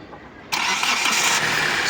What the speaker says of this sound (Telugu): ఒకసారి ఇంజిన్ అయితే ఆఫ్ చేసి మళ్ళీ ఆన్ చేస్తున్నాను చూడండి